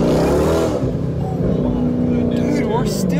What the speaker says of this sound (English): that supercharger whine is like in perfect harmony with the exhaust.